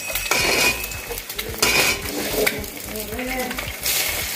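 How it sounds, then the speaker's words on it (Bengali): Two eggs frying in oil in a pan, a close bright sizzle that swells and eases with occasional utensil clinks against the pan. "ডিমটা আগে ভেজে নিতে হবে।"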